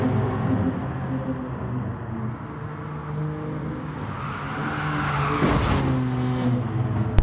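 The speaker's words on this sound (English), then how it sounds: "the Mustang actually lost it a little bit and smacked into barrier" Race cars in Gran Turismo Sport, a GR4 championship race where a Mustang slides and hits a barrier: steady engine drone throughout with a brief screeching burst of skidding tires near the end, followed by a sharp thump.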